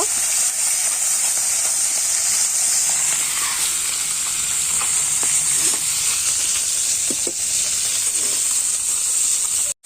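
Fish fries in mustard oil in a home kitchen for an Odia meal, a steady close sizzle and hiss with occasional light stirring clinks, running throughout with no talk.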